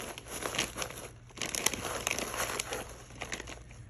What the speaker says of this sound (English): we're gonna cut off that little strap because you don't need that